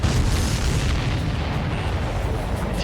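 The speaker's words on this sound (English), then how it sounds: "Did you see that explosion?" A missile strike blows up an enemy supply ship in the flight combat game Ace Combat 7, a loud, sustained, deep rumbling blast that fills the whole moment without letting up.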